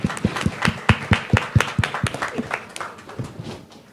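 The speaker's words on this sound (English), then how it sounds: "So let's give her a round of applause." Applause from a small audience at a panel discussion on plastic waste follows a speaker's contribution. A few sharp claps come in a quick, uneven patter, loudest at first, then taper off over a few seconds.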